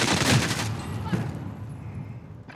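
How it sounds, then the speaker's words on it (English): Rapid bursts of automatic gunfire crack loudly in an Xbox Series X shooter game, a dense volley at the start, then another burst before trailing into echoing decay. "Where's that gunfire coming from?"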